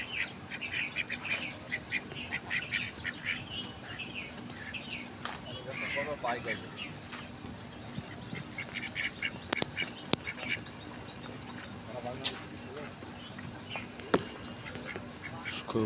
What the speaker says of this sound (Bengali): অনেক সুন্দর, একদম দেশি হাঁস।